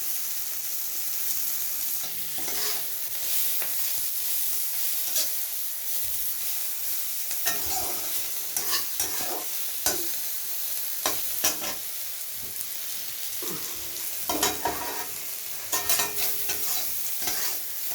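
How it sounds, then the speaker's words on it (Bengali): Onions frying in a pan with salt and turmeric added, a steady close sizzle broken by repeated scraping stir strokes, with no talk. "পেঁয়াজটা আমার লালচে করে ভাজা হয়ে গিয়েছে।"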